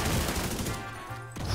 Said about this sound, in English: I'm throwing grenades at them.